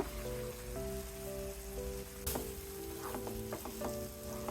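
Sheem bean seeds (flat bean seeds) sauté in oil-released spice paste for a Bengali boal fish rasa, giving a steady, close sizzle with faint stirring clicks and scrapes and no talk.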